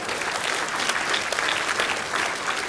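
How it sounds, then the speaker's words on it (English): A large indoor audience at a talk on marriage gives warm, sustained applause, a dense and even wash of many hands clapping throughout, loud and close, with no speech over it. "That clap is for you, sweetheart."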